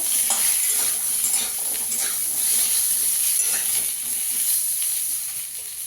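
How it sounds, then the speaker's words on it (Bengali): Potatoes and vegetable stalks frying in hot oil in a pan, a steady close sizzle with occasional stirring scrapes throughout, no voices. "আলু ডাঁটা সব দিয়ে দেবো। দিয়ে একটু 2 মিনিট ভেজে নেব।"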